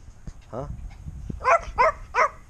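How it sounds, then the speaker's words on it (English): Dogs barking nearby, three loud, evenly spaced barks in quick succession after a short voiced sound, with faint background noise. "Sorry about the dogs barking."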